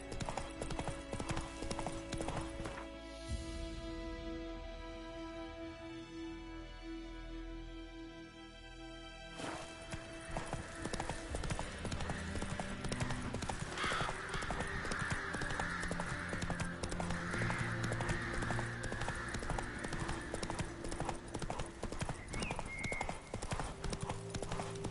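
Roach the horse's hooves clip-clopping in The Witcher 3: Wild Hunt, a rapid regular hoofbeat rhythm that runs through the whole stretch over game music, briefly softening before picking up again.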